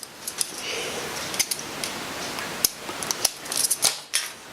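A small piece being trimmed with a cutting tool: sharp close clicks and snips scattered over a steady background hiss, growing busier near the end.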